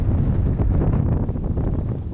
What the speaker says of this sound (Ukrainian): Ви подивіться, який вітер ураганний, да?